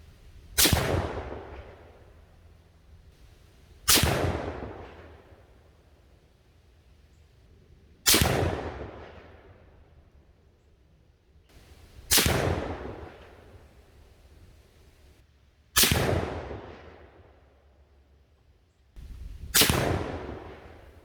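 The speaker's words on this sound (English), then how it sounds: "We're going to shoot 3 groups, 3 shots each" A Ruger M77 rifle in 7mm-08 fires Hornady American Whitetail 139-grain rounds at a range, six sharp, loud cracks spaced roughly every three to four seconds, each followed by a short decaying echo.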